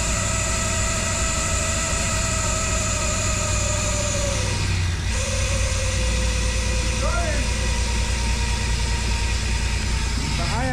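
An LS-swapped BMW E36's engine idles loudly and steadily close by after a cold start, idle air control at 30%, with a brief dip in its drone midway and faint squeaks and chirps over the rumble.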